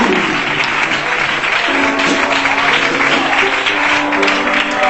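Church congregation applauding loudly during a Spanish-language worship service, a dense, continuous roar of clapping with a few cheers and voices mixed in, sustained and close for the whole stretch.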